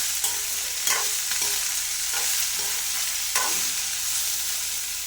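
Okra sautéing in a pan with salt, a soft steady sizzle punctuated by several sharp scrapes and knocks of a spoon stirring, with no speech.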